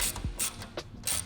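A wrench tightens the screw of a bicycle rear rack into aluminum threads, giving a few quiet ratcheting clicks and short metallic creaks up close.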